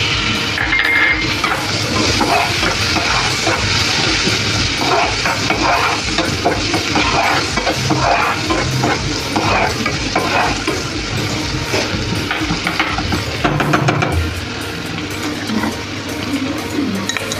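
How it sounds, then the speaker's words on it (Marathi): Finely chopped tomato frying and being stirred in a pan of spiced bottle gourd, a loud, steady sizzle with continuous scraping and stirring throughout, close by and with no talking. "ह्यात आता हा बारीक चिरलेला टोमॅटो टाकते"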